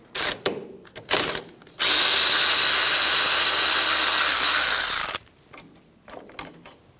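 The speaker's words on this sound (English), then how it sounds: "Using a 10 millimeter socket, remove the ABS bracket off of the upper control arm." A power tool spins a 10 mm socket on the ABS bracket bolt of a 2005-2010 Toyota Tacoma's upper control arm, running in one loud, steady burst of about three seconds between shorter clicks and rattles.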